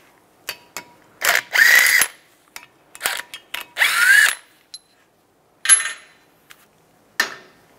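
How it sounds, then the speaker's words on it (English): Short, sharp bursts from a power tool tightening a bolt into the threaded holes of a front brake rotor on a 2007-2014 Chevy Silverado 2500 HD, forcing the rotor off its hub; several close, loud whirring pulses with quiet gaps between. "As you tighten it, it's going to pull the rotor off."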